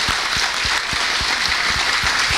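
Audience clapping in rhythmic, evenly spaced claps at a religious Ram Katha gathering, loud and continuous over a dense crowd wash.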